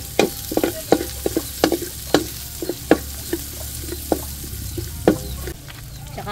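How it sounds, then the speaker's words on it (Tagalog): Chopped garlic sautéing in hot leftover frying oil in a pan, with a steady sizzle broken by frequent sharp clinks and scrapes of a spatula stirring. "At ngayon naman po ay tayo magigisa na."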